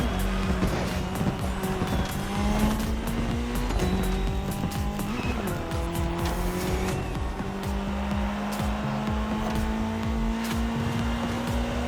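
Ford Puma Hybrid Rally 1 electrified rally car racing in The Crew Motorfest, engine droning and shifting pitch up and down with squealing, skidding tires, loud and continuous throughout.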